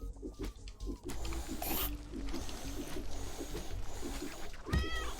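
Meowing from the Rotten Cat Apple boss in the video game Turnip Boy Commits Tax Evasion, a few short cat-like cries rising over busy, steady game music and combat effects, with a louder burst near the end.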